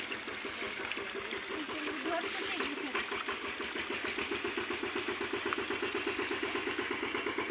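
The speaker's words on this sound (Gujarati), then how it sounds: "ત્યાં ટ્રેક્ટર કાઢવાનું કામ ચાલે છે" Tractor stuck in mud on a farm, its engine running with a rhythmic chugging pulse that grows steady and pronounced while it is being pulled out, with people talking over it.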